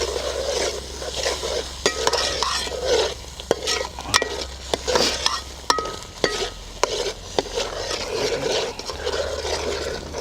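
A pan of Rohu fish curry gravy is stirred, with a continuous bubbling sizzle broken by sharp, irregular clicks of the spoon striking the pan, close and steady, with no talking.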